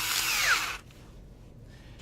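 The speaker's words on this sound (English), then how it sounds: "I'm going to put a screwdriver bit into my drill." A power drill fitted with a screwdriver bit gives a short, close whirring burst, then cuts out into near silence.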